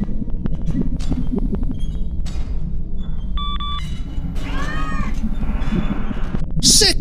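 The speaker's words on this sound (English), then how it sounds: "A giant cat!" A giant cat meows in the horror video game CASE Animatronics, with several drawn-out, wavering cries rising and falling over a loud low rumble and scattered electronic beeps.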